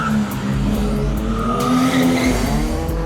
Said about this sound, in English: Niven Govender is showing what he can do in his Skyline.